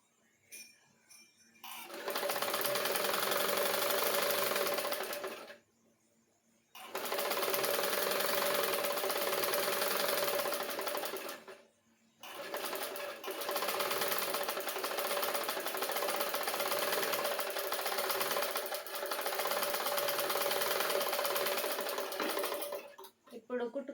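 A sewing machine stitching a blouse sleeve seam in a tailoring lesson, running in three long loud close bursts of rapid whirring stitches separated by short silent pauses.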